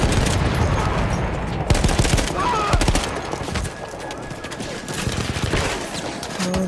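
Gunfire in the Battlefield 1 video game, rapid bursts and single cracking shots popping in quick succession, fairly loud and steady, with someone speaking between the shots.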